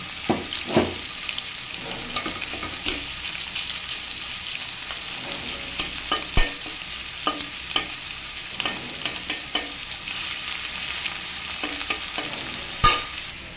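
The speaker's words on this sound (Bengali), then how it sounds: "দেখুন, আদাটার রস চিপে কপির মধ্যে দিয়ে দিয়েছি। এখন এটাকে ভেজে নেব।" Shredded cabbage with squeezed ginger juice frying in a pan, giving a steady close sizzle broken by frequent sharp scrapes and knocks of a stirring spoon, with no talk.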